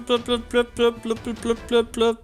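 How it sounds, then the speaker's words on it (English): Nine rapid, evenly spaced alarm beeps from a film soundtrack, each a bright two-tone electronic pulse in a steady rhythm, loud and close with no talking. "That's the alarm sound."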